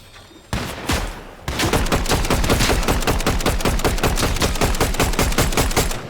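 Rapid, sustained automatic gunfire in the video game Fortnite, sharp repeated bursts, loud and continuous after a brief lead-in of scattered shots.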